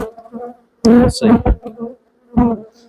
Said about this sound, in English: These frames aren't filled up with bees